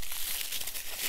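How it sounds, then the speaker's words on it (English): Paper wrapping around a Logitech MX Keys keyboard crinkles and rustles continuously during unwrapping, close up and fairly loud, with no voices. "Ooh, I like the nice wrapping paper."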